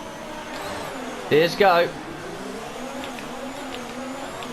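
An F1 car revs at the race start of the Azerbaijan round in the F1 2019 video game. A steady engine drone is heard, with a short burst of rising revs in the middle and a brief spoken comment over it.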